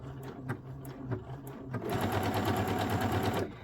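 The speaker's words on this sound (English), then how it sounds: "Let's go ahead and stitch out our rectangle, remembering to back tack in all 4 corners." A sewing machine stitches a rectangle for a welted pocket with back tacks at the corners: a few short stop-start bursts of needle ticking, then a loud continuous close whir with rapid even ticks before stopping.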